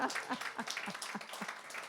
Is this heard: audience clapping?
yes